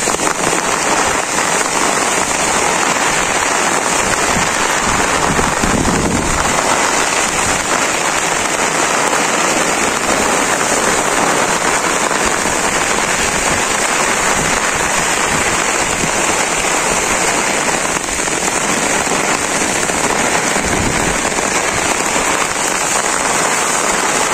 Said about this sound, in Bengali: ভালো রকম অনেক বৃষ্টি হইতেছে।